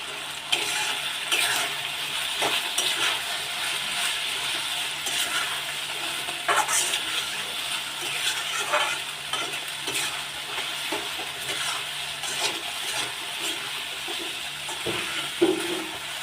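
White part of spring onion stir-frying with prawns for a garlic prawn fry, a steady sizzle with repeated spatula scrapes and stirring clatter, close and continuous.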